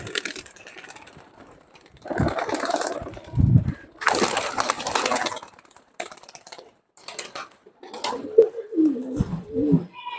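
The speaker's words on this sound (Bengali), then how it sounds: "এই দেখেন একটা খুলনা লাল আসার কবুতর আছে" Pigeons in a loft, a red Khulna high-flying breed, cooing and flapping in short bursts, with scuffling, rustling noises and a man calling to them intermittently nearby.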